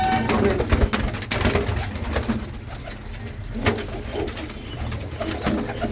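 A female pigeon of a bred racing line coos steadily and close by, with a few soft wingbeats or shuffles. Faint human voices sit in the background.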